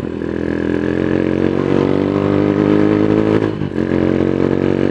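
A Mojo 200 motorcycle with its catalytic converter removed revs loudly and close, holding a steady rough drone with a short dip and recovery near the end.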